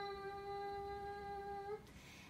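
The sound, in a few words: humming exhale of Brahmari bumblebee breath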